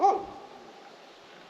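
On an outdoor fishing outing at new waters, a dog lets out one short, close bark or yelp at the start, and then quiet background follows.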